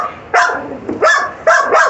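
A lab pit mix barks at a kennel: three sharp, loud barks close by, spaced roughly half a second apart with brief quiet gaps between them.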